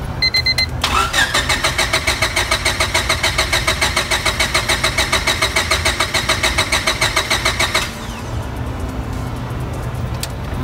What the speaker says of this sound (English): Just gonna try to turn the car on